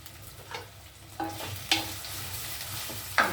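Paneer, mushrooms and mixed vegetables fry in a pan with a continuous crackling sizzle, punctuated by four sharp scraping stirs of a spatula, close and fairly loud.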